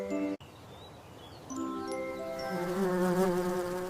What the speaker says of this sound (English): Look at the busy little bees buzzing around the flowers.